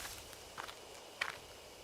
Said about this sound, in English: There are footsteps close by